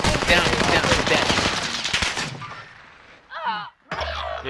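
Gunfire in an online shooter video game: a dense, loud burst of rapid shots for about two seconds, tailing off into fainter distant fire, with brief game sounds after.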